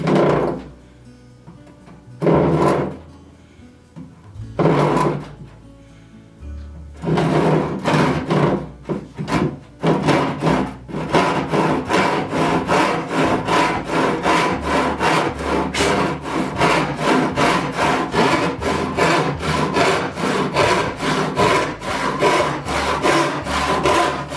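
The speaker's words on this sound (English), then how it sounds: "I'm going to start cutting them to length, and then I'll rip them down to width." A handsaw cutting wooden boards to length for a simple bedside table: a few separate strokes at first, then a long run of fast, even rasping back-and-forth strokes, loud and close.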